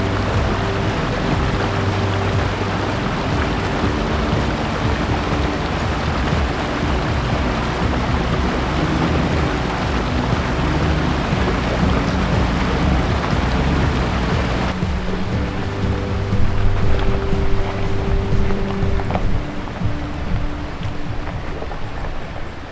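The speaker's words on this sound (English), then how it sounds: "Water crossing here." Ford Bronco fording a creek on a rugged Idaho off-road trail: a continuous loud wash of splashing and churning water with the engine rumbling underneath, swelling briefly louder in the last few seconds.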